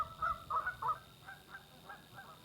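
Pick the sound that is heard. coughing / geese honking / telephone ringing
geese honking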